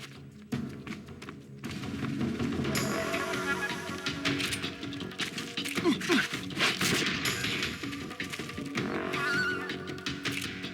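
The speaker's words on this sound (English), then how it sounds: "Who else is shooting at me?" Gunfire in the video game Metal Gear Solid 3 comes as bursts of shots and thumps within a busy game soundtrack, moderately loud over about ten seconds, with faint voice-like sounds.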